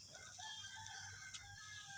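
Chickens in a backyard coop with a dry litter floor, scratching at the bedding while a rooster crows and hens cluck softly, mixed into a steady low background hum.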